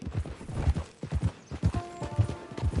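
Horse hooves clip-clopping in Red Dead Redemption 2, a quiet run of soft irregular hoof thuds close by, with a brief whinny-like tone near the end.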